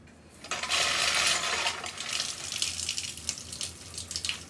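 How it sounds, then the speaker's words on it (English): Water starts rushing through an aeroponic pump system with a sudden onset, then keeps up a steady splashing, hissing flow with small trickles and drips, heard fairly close. "we got water running through there"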